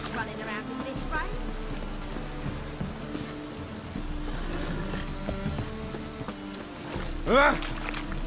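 Steady rain in the video game The Witcher, a constant soft patter and hiss running throughout, with character voices speaking over it.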